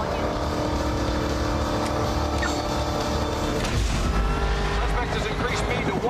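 Ford Mustang GT500E Eleanor engine, a loud continuous rumble with rising revs and a brief tire-squeal-like sweep partway through, over street background.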